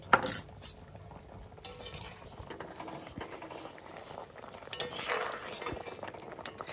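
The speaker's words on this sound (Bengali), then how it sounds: "একটু হালকা হালকা করে নাড়াইতে হবে, বেশি জোরে জোরে নাড়ানো যাবে না।" A banana flower dish is stirred gently in a pot, with soft scraping and occasional clinks of a utensil against the metal, intermittent and fairly quiet.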